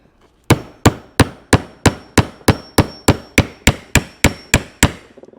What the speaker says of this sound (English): find a surface where you can pound it in from the top like so